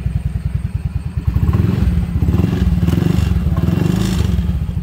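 A 2020 Honda Beat CBS scooter fitted with a keyless remote starts and settles into a close, rapidly pulsing single-cylinder idle with a slight clattery rise partway through, loud and steady without speech.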